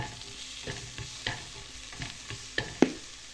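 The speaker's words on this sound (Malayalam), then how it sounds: "ഇതൊന്ന് ചെറിയ ലോ ഫ്ലെയിം ആക്കിയിട്ടേ നമുക്കൊന്ന് വഴത്തിയെടുക്കാം നല്ലോണം വഴങ്ങണം" Tomatoes sautéing in a pan on a low flame for egg biryani, with a soft steady sizzle broken by several distinct scraping stir strokes, the last one loudest, close up and alone without talk.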